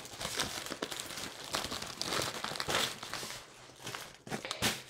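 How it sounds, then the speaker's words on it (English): Double tissue paper crinkles and rustles close up while being folded and creased for an origami porcupine, in a run of quick, uneven crumpling bursts with no talking. "you're going to fold in half in all directions"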